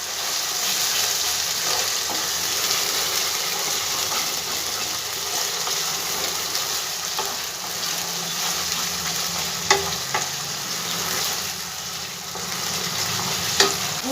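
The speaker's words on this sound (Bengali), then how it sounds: "দু সেকেন্ডের মতন এটাকে একটু আগে ভেজে নেব।" Eggplant kofta fries in hot oil over a high gas flame, a loud, dense, continuous sizzle with a couple of brief clicks near the end.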